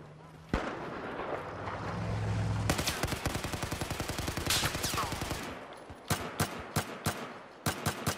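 Battlefield 4 multiplayer gunfire in burst and single-fire mode: a dense run of rapid sharp shots, then separate single cracks spaced apart, loud and close, with a voice talking over the opening.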